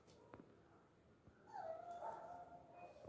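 A dog indoors whimpers and gives short yips and barks, moderately close, with a drawn-out whining cry in the second half over faint room noise.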